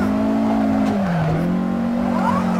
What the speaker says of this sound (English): Damn, I like the engine sound.